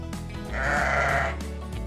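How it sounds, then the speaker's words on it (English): A farm sheep gives one drawn-out, wavering bleat lasting close to a second, moderately near and fairly soft, with quiet background before and after and no voices. "It's a sheep!"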